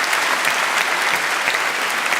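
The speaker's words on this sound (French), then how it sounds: "On peut les applaudir." Steady, loud applause from a comedy show audience, dense clapping filling the whole moment with no pauses.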